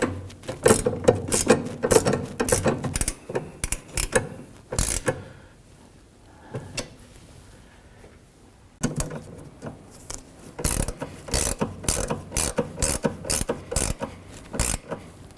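A ratchet tightens the rear sway bar link nuts on a 2006–2011 Honda Civic in rapid bursts of loud, close clicking, with a pause and a brief quiet stretch between the two runs of cranking.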